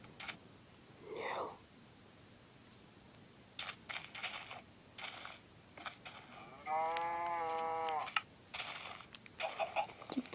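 A cow moos in Minecraft Pocket Edition, one drawn-out low call in the middle of quiet whispered talk and soft keyboard taps.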